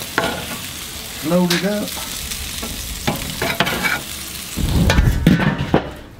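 Burger patties topped with pepper jack cheese sizzle loudly on a hot griddle, with a steady close frying hiss, scraping spatula strokes and brief speech over it.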